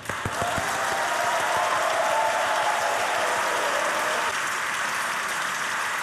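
Studio audience applauding on an Austrian TV comedy show, a dense steady wash of clapping that holds at full strength for the whole stretch, close and continuous with no talk over it.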